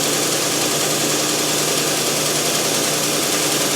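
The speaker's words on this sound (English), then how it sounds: "I'm using a 36 grit belt on this sander." Belt sander running a coarse 36 grit belt while reshaping an inexpensive utility knife into a hunting knife, giving a steady, loud, dense motor whine and grinding roar that holds unbroken throughout with no pauses.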